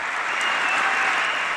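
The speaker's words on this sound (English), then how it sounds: "His supporters cheering him to the rafters." Supporters cheer and applaud in a packed legislative chamber during a State of the Union address, a dense, steady roar of clapping and cheering lasting throughout without a break.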